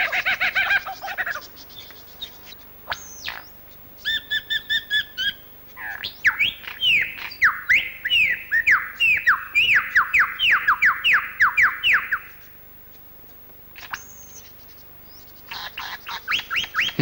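A lyrebird mimicking small songbirds pours out a varied run of sharp chirps, rapid descending trills and whistled notes, loud and close with brief pauses between phrases, and no voices.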